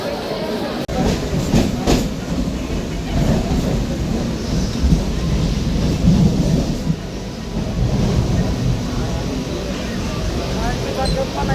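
Low continuous rumble of a train at crowded Dadar railway station, loud and close, mixed with crowd noise and voices talking throughout.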